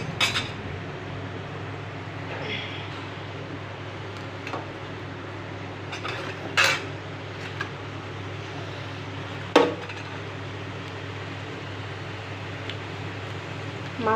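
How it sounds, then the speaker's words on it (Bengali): Shrimp sautés in a pan before pumpkin goes into the curry: a steady frying hiss runs throughout, broken by a few sharp clinks of a utensil against the pan. "চিংড়ি মাছটা আমি আগে থেকে কষিয়ে নিচ্ছি"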